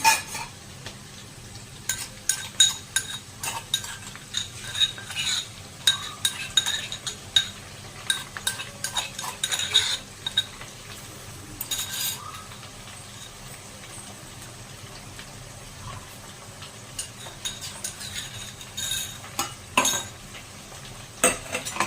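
Crushed ginger, garlic and green chilli mixture stirred in a pan for a green chickpea usal, with scattered spoon scrapes and light clinks against the pan over a soft frying hiss, close and moderately loud.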